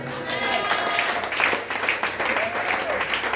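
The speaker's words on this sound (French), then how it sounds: "Tu peux acclamer le Seigneur." A church congregation breaks into sustained applause, a dense wash of many clapping hands filling the room at steady loudness with voices mixed in.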